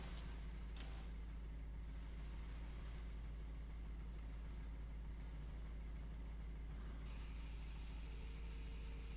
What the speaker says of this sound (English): I can definitely hear the brake on this truck